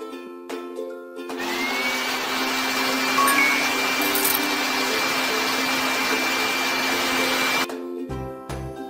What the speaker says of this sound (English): Let's vacuum the floor.